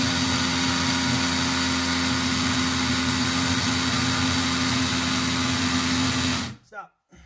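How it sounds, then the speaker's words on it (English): A Milwaukee M12 Gen3 hammer drill (3404-20) grinds loudly and steadily into a 55-year-old poured concrete basement floor with a high mechanical whine, then stops abruptly, leaving brief quiet with a short voice. "what we're drilling here, this is 55-year-old poured concrete floor in my basement"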